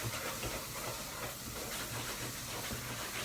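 Ginger sizzles and fries in a pan while making a roasted cauliflower and aubergine curry, a steady, close crackling hiss with no talking.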